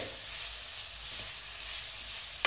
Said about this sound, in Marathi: आपला आता कांदा भाजत आलेला आहे.